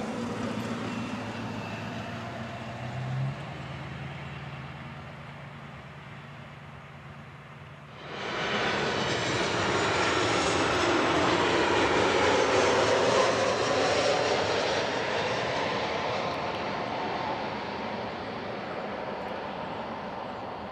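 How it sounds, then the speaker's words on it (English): A Southwest Airlines Boeing 737-800 jet at an airport: a distant engine hum swells suddenly into a loud, broad roar that holds steady and then begins to fade slowly as the aircraft passes. "Southwest Airlines, 737-800."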